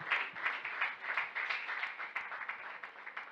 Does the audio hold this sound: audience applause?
yes